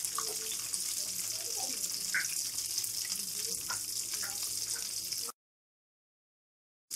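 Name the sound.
egg kababs sizzling while frying in oil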